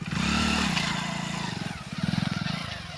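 A motorcycle engine during bike stunts drones and revs close by, its pitch rising and falling through a steady throaty roar with a brief lull before picking up again.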